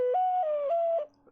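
A single ocarina played clumsily, producing a breathy, wobbly whistle-like tune that steps up and down between a few pitches for about a second before cutting off, close and clear with no talking.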